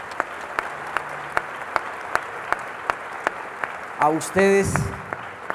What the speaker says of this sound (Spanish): quiero que el aplauso sea para todos los organizadores del festival